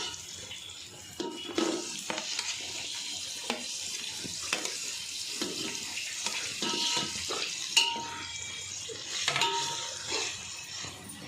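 Tomatoes are stirred into a frying pan while making chicken biryani: a soft, continuous sizzle runs under scattered scraping and clinking from the spoon against the pan, with no speech.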